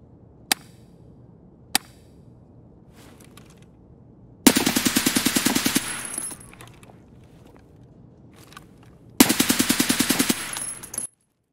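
A new gun in Escape From Tarkov fires two sharp single shots, then two long rapid automatic bursts with a steady, even rhythm. Each burst ends with a clatter of mechanical and metallic clicks.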